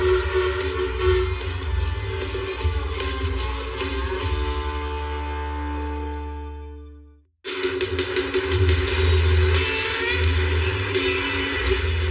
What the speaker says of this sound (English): Gotta get some horn honkage in here.